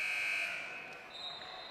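At half-time of a Liga Sudamericana basketball game, the arena buzzer gives a brief steady tone. It fades quickly into a wash of crowd noise.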